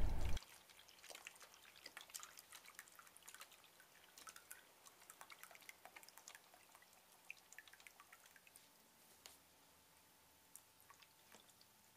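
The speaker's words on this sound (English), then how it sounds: "So I'm going to go ahead and pour my hydrogen peroxide." Hydrogen peroxide trickles and drips steadily for several seconds, with scattered small splashes, close and fairly quiet, no talking.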